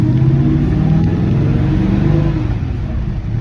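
A 1950 Ford F-1 truck pulling away in first gear, its engine loud and close with a steady low droning rumble that builds slightly, heard from inside the cab without talk.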